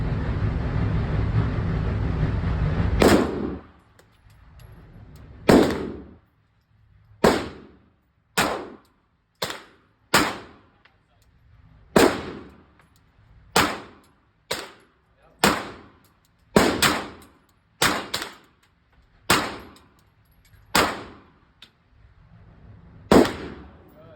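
A Glock 19 Gen 5 pistol fires about fourteen sharp, loud shots at 20 yards at an outdoor range. The shots come singly at irregular intervals of one to two seconds, and each one leaves a short echoing tail.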